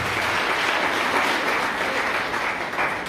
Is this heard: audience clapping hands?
yes